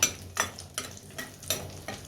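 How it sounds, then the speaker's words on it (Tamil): Chopped small shallots are stirred into hot oil for a curry, sizzling steadily under a series of sharp scraping spatula strokes roughly every half second, close and fairly loud, with no talk. "இதை வந்து சேர்த்துக்கலாம் நல்லா வந்து வதக்கி விட்டுடுவோம்"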